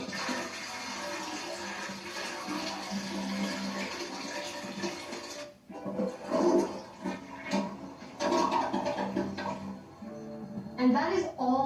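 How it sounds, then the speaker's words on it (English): Dirty water poured down a toilet and flushed, a loud steady rush of draining water that breaks off, then returns in gurgling surges, with voices talking over part of it. "So you can watch the nasty water go down the drain."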